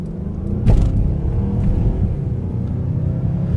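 A 2019 Mazda CX-9 Signature AWD accelerates at full throttle, heard from inside the cabin as a steady, loud engine roar and low road rumble with no talking.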